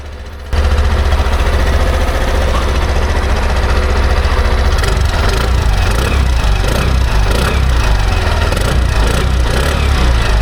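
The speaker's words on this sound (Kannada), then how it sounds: "ಈ ಸ್ಕೂಟರ್ ನ ಎಕ್ಸಾಸ್ಟ್ ನೋಟ್ ನೋಡ್ಕೊಂಡ್ ಬರೋಣ ಬನ್ನಿ." A 2026 Suzuki Access 125 scooter idles close by after a brief quiet start, its exhaust giving a steady, low, even putter for about ten seconds with no talking.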